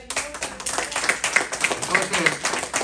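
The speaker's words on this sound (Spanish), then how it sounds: "denle un fuerte aplauso al Señor" A church congregation claps together in praise, a moderate, fairly even round of applause with some rhythmic hand claps running throughout, heard from within the room.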